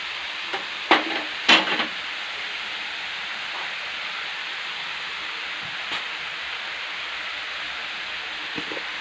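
Papaya and pork stir-frying in a pan, with a soft, even sizzle and a few sharp clinks and scrapes of stirring near the start.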